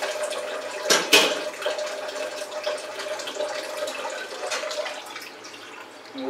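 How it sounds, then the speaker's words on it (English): Filtered water trickles slowly into a flat pan in a kitchen, a soft continuous splashing flow after a couple of sharp clanks at the start, fairly quiet and steady throughout. "It's slow, the water into the flat pan because it's filtered water and filtered water is very slow."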